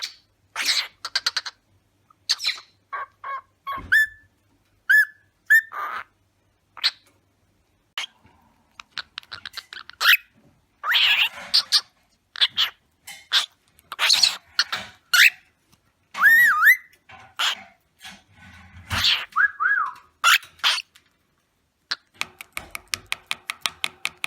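A cockatiel whistles and chatters in rapid bursts of chirps, warbles and rising whistles, with clicky chattering and a fast run of sharp repeated notes at the end, close and fairly loud, no talking.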